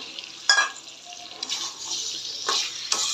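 Hot water poured from a pan into a cooking pot of potatoes and oil, a hissing, sizzling rush with a couple of louder splashing bursts, close and steady, no talk.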